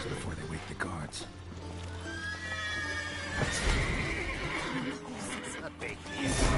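Horses neigh and whinny in The Witcher 3, with a hint of hooves, the cries rising over a busy game soundscape while a voice talks intermittently.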